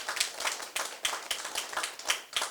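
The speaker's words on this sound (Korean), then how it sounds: "먼저 박수 한번 주시면 감사하겠습니다." An audience at a pharmacists' association policy debate in Seoul claps together in a clear, fairly close burst of individual, rhythmic hand claps, no talking over it.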